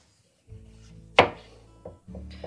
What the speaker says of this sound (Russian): Морковку мы тоже нарезаем кубиками